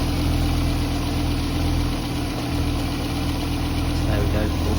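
Idling engine of an Audi RS2 with a rebuilt 30-year-old alternator, a steady close hum and mechanical whir running evenly throughout with no talking.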